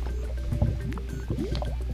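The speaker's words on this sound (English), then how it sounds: "That's the sound of lava." Lava bubbling in the Minecraft video game, heard underground: soft, faint gurgles and small pops over a low steady hum.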